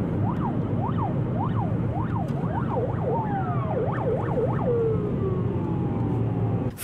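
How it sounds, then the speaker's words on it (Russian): An ambulance siren, on the way to an emergency call, wails in a rapid rising and falling pattern, loud and continuous over the rumble of road traffic. "следуем за машиной скорой медицинской помощи, спешащей на экстренный вызов."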